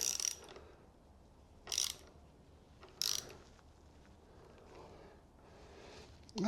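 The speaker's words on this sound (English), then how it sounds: "So we're going to use a little ratchet to try and" A small ratchet works on a bolt of a BMW R1250R motorcycle, giving three short, quiet bursts of clicking spaced a second or so apart, then a fainter stretch of handling and another click at the end.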